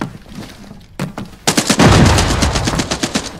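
Close, loud gunfire in the shooter game Arena Breakout: Infinite: a sharp single shot, then a rapid automatic burst of evenly spaced cracks that keeps rattling to the end.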